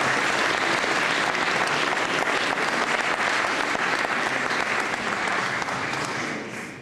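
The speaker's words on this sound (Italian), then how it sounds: "Un bel applauso al soprano Myung Jo Ko" Sustained, loud audience applause for a soprano at an Italian Unity Day celebration concert, a thick continuous clapping that holds steady before tapering off at the end.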